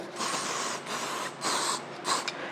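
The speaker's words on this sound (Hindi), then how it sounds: "एक तरफ का हो गया, इस पे भी आप स्प्रे करें।" Hairspray misting onto hair while styling a sleek high ponytail, four hissing bursts of varying length, close and loud, separated by short pauses.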